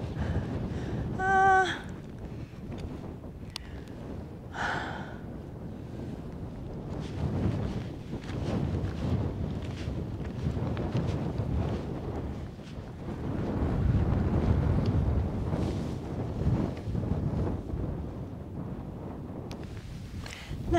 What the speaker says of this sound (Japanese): 風が強くて音が聞こえないかな